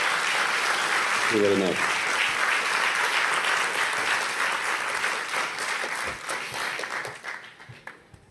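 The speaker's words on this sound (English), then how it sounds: "Please, everyone, give a big round of applause." Large audience at a NATO youth summit in Brussels gives sustained applause, loud and dense at first and then thinning and fading out, while a voice speaks briefly over it.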